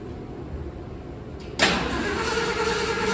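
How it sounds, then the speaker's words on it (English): A 1976 Ford F150 XLT SuperCab barn-find truck engine turns over, starting as a sudden loud broadband roar about halfway through and holding steady with no voices. "Not cranking over all that fast."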